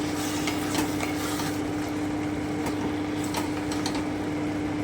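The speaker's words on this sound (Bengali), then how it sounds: "আমি দুধটা দিয়ে দিচ্ছি আমি একটু নেড়ে নিচ্ছি" Bottle gourd shukto is stirred in a pot after milk goes in, with a soft, continuous simmering hiss under faint, intermittent scraping of the spoon, close and steady.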